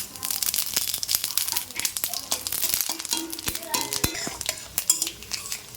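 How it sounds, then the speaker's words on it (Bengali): Dried chilli, bay leaf and five-spice tossed into hot oil in a wok for mango pickle, crackling and rustling clatter with utensil clinks, close and busy, with a voice talking over it. "এবার দিয়ে দিচ্ছি শুকনো লঙ্কা, তেজপাতা, পাঁচফোড়ন"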